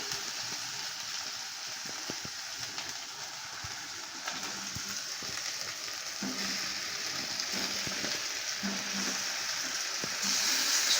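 Fried vegetables tipped into a pan of fish head chhechra, giving a steady, soft sizzle and hiss throughout, faint and even, with a slight rise in the last second and no talk.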